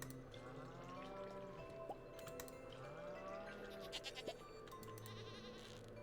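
Sheep bleating in the farming video game Stardew Valley, a few short bleats over steady background game music and ambience.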